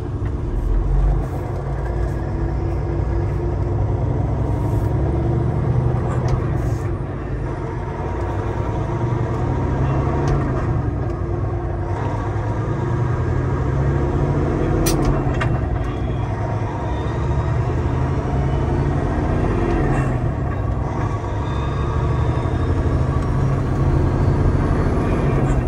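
A Peterbilt 389 truck engine drones steadily as it works through every gear, a continuous deep rumble heard from inside the cab with small shifts in pitch and no talk.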